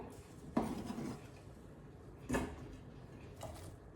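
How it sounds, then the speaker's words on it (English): A knife chops zucchini in half on a board in a home kitchen, giving three separate dull knocks spaced about a second or more apart, close by, over low room hiss with no talking. "So I'm going to just chop them in half"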